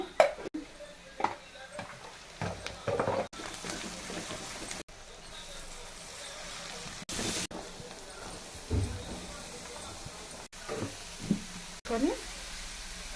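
Onions browned in a pan with a little turmeric added, giving a steady low sizzle with occasional stirring knocks, heard beneath intermittent talking.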